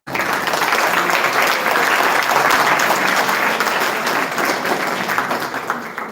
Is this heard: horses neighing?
no